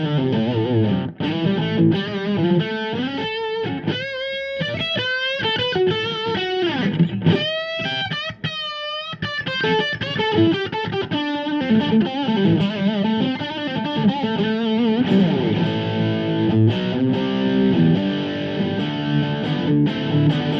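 A 2002 Gibson Les Paul Standard electric guitar in honey burst plays with distortion, volumes and tones at full, a continuous run of driven chords and melodic lines, with no talking.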